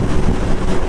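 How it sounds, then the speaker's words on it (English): Strong wind roars and buffets against the microphone in a broad, constant rush, loud and close, with no other sounds standing out over it. "Windy as hell going this way."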